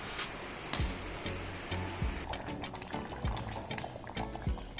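Pumpkin simmering in a pot for a home-made green gram erissery, a steady low bubbling and liquid churn running throughout with a few soft knocks, close and moderate in level, no talking.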